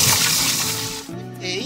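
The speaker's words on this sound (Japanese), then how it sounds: "先ほど塩でしたやつをですね、一応きれいに洗います" Salt-rubbed green beans get a rinse under water, a splashy running-water wash that is brief and close, stopping partway with a few softer drips and clinks.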